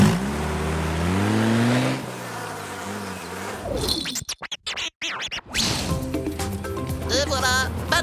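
A cartoon car in the Ollie et Moon animated series speeds off amid buzzing flies, with scratchy engine and whooshing effects layered over a busy soundtrack.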